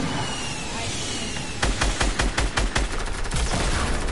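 Video game gunfire with rocket launcher shots, starting after a quiet stretch: a burst of sharp, loud repeated shots with booming blasts, close and punchy, over a constant background of game ambience.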